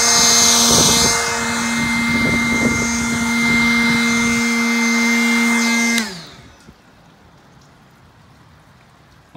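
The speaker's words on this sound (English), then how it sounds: "you can blow dry the whole car" Loud high-pitched whine of a powerful blower drying a car, running steadily, then abruptly shutting off and spinning down into quiet patter of rain.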